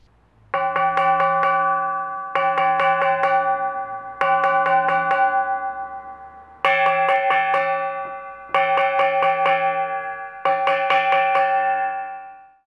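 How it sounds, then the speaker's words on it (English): A gong for lion dance music is struck six times at even intervals, each hit ringing bright and metallic before the next, with the tone shifting between strikes on the centre and the rim. "You can create different tonal qualities by playing on different parts of the gong,"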